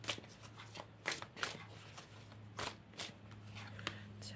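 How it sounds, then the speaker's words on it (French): Tarot cards are shuffled by hand nearby in repeated soft riffling bursts over a low steady hum, fairly quiet and with no talk. "Je vais d'abord battre les cartes pour savoir de quoi nous allons parler cette semaine."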